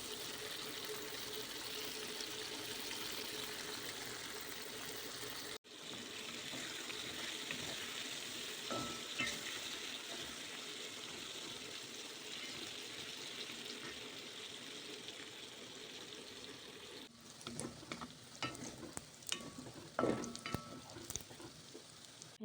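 Steady sizzling of vegetables frying in a pan, with water splashing and running in, crackling bursts growing busier toward the end.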